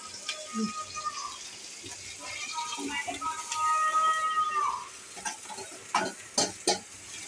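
Spicy rice tipped into a frying pan and stirred: a spoon scrapes and scuffs against the pan with a soft sizzle underneath, a few sharper clinks near the end, and a voice talking over parts of it.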